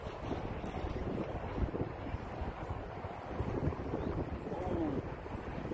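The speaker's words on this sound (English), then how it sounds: "Yeah, the wind's coming in." Wind blows hard across a lake during a magnet fishing trip, a steady roar with gusty buffeting on the microphone and faint water movement beneath it.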